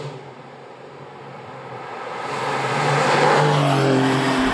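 A Porsche 911 GTS with a 480-horsepower twin-turbo flat-six engine on an open road, its steady drone growing louder and rising in pitch as it accelerates, heard from close by with no talk.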